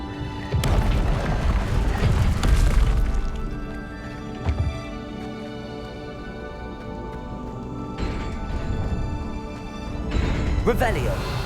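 The Bombarda explosion spell from the Hogwarts Legacy video game goes off with a deep booming blast at the start, followed by rumbling debris and a couple of later bursts over a game soundtrack.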